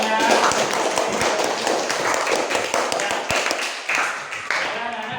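Students in a classroom clap together briskly, the applause dense at first and then thinning into scattered claps near the end.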